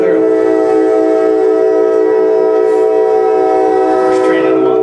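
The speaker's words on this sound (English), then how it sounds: "First train in a month." A train horn blares in a long, steady, loud blast near a town, sustained for the whole moment with a faint swell near the end, drowning out everything else with no voices heard.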